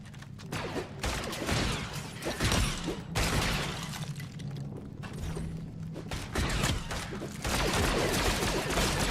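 Rapid gunfire crackles and rattles in the Lego Fortnite video game, a dense, continuous barrage of game combat sounds with mechanical clatter throughout and no clear talking.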